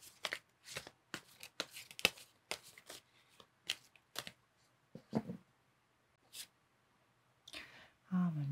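Tarot cards shuffled by hand, a quick run of crisp papery riffles and slaps in uneven bursts, close and fairly quiet, ending with a low thump.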